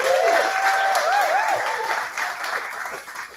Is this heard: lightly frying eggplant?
no